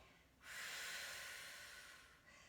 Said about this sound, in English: I'm gonna take that exhale